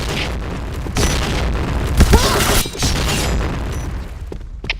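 Bomb blast in the shooter game Point Blank, a loud booming burst with rumbling tail lasting several seconds, with a brief voice partly under it.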